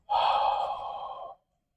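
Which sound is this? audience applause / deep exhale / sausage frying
deep exhale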